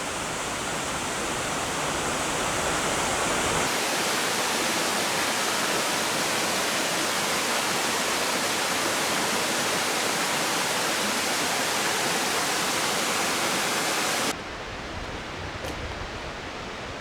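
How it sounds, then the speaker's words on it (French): Cascade de Kounouzouls, a waterfall in the Pays Cathare, roars as a dense, steady rush of falling water, loud and unbroken throughout, dropping slightly in level near the end. "après cette belle cascade de Kounouzouls"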